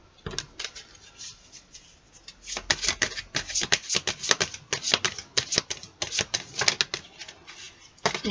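Tarot cards being shuffled by hand, a close, crisp run of rapid riffling flicks and slaps continuing for several seconds with brief pauses.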